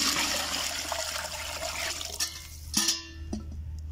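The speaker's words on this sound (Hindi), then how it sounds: "अब इसमें हम अपने चावलों के हिसाब से पानी शामिल करेंगे" Water pours into a cooking pot outdoors while matar pulao rice is being prepared, a steady rushing stream that thins into trickles and splashes near the end.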